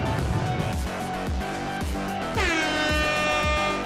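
A loud air horn blares over a pounding beat, with a sustained blast near the end.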